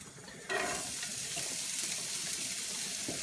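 Onion and garlic for a pasta sauce hit a hot pan and break into a loud, steady sizzle that holds without a break, with no talking.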